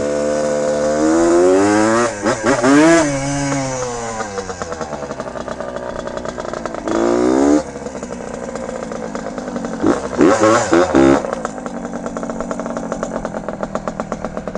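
A 1974 Suzuki TM125 two-stroke motorcycle engine revs up and down repeatedly, rising to loud, high-pitched wails and dropping back to a rapid, buzzing idle, close by.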